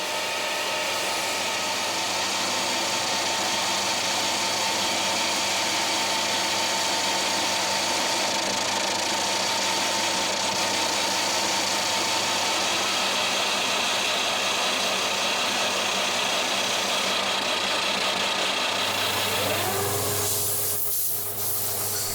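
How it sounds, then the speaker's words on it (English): A wood lathe spins a piece of wood at high speed while a sharp blade cuts away its edges, giving a steady, dense whirring roar that holds for the whole stretch and shifts in tone near the end. "The lathe spins the wood really fast and a sharp blade cuts the edges off to make it"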